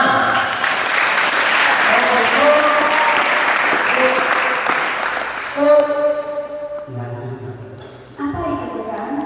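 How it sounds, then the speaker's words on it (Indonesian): Students at a school recollection retreat for grades seven and eight applaud in a dense, steady burst of clapping that fades after a few seconds as voices and talk take over. "Tepuk tangan."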